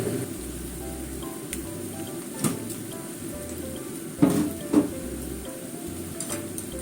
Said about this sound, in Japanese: これで中火で中まで火が通るようにして焼いていきます